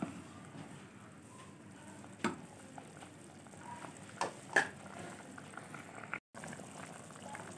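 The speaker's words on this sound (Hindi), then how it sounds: "अब चनों में बहुत अच्छा सा उबाल आ गया है" Chickpeas simmer in a pot of boiling water for chole, a soft continuous bubbling close by with occasional louder pops and clinks, and no one talking.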